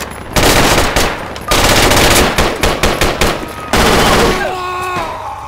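Rapid automatic gunfire from the Project Reality military shooter, with loud sustained bursts and separate sharp shots close by, ending in a ringing tail.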